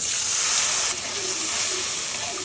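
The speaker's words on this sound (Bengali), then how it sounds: "মশলা একদম কষানো হয়ে গেছে, জল দিয়ে দেবো" Water poured into a pan of fried spice paste of ginger, garlic, turmeric, chilli powder and garam masala, giving a loud broad hissing sizzle that eases slightly after the first second and then steams on steadily.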